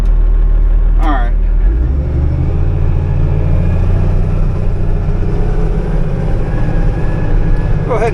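A Komatsu WA180 wheel loader with 8,100 hours drives along in high gear at about 15 miles an hour, its diesel engine droning steadily and loudly throughout with brief faint noises at the start and end.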